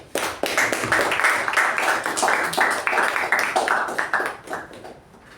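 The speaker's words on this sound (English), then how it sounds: "With a huge round of applause, please welcome Toastmaster Jyothi." A Toastmasters meeting audience gives a dense round of applause welcoming a speaker. The clapping is steady and fairly loud for about four seconds, then fades away.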